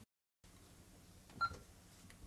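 An alarm system keypad on a hardwired security panel gives a single short electronic beep during programming, faint, in a quiet room.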